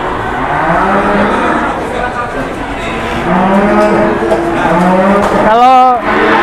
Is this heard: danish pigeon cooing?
no